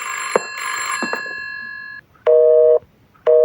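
An electronic telephone call tone in a horror video game: a sustained ringing tone stops, then two short, loud beeping pulses follow after a gap, with no talking.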